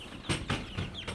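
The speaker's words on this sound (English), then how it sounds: "Baby chickens." Baby chickens peep in quick, bright bursts at a homestead, several close chirps spaced across a moment over a steady background hiss.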